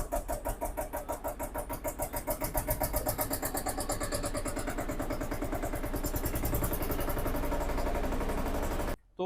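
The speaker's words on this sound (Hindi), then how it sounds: "क्लच दबा के ये ट्रैक्टर स्टार्ट होगा, उसके बिना स्टार्ट नहीं होगा जी।" Eicher 241 tractor diesel engine running steadily close up after starting, a dense rapid knocking beat that holds loud and even before cutting off abruptly near the end.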